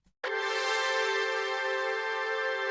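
Two layered Serum synth presets for drum and bass strike a bright, rich sustained chord that starts abruptly after a short pause and holds evenly and loudly to the end.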